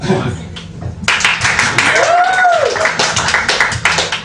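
Audience applause and cheering at a comedy night, starting sparse then swelling into dense clapping with whoops and voices mixed in, fairly loud and close.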